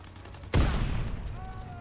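A single sharp gunshot from an ERMA EMP submachine gun in Call of Duty WW2 cracks out after a quiet half second, followed by a loud rumbling tail that fades slowly.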